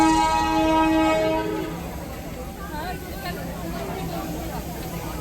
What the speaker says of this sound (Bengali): একটা ট্রেন বেরিয়ে যাচ্ছে।